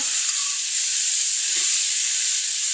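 Greens and boiled potatoes with green chilies frying in a pan, a steady soft sizzle and hiss running throughout, fairly quiet and even, with no talking.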